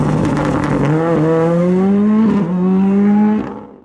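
A Ford Fiesta R5 rallycross car racing at Aghadowey, its engine loud and close with a steadily rising rev pitch, a brief gear-change dip near the middle, then a further climb before the sound drops away at the end.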